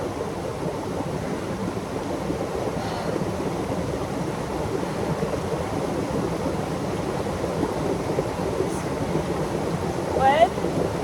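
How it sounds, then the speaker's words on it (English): Loud, steady rushing of cold water on an outdoor nature hike, a dense continuous roar close to the microphone with some wind buffeting. Faint voices are barely audible beneath it. "The water is louder than your beautiful voice."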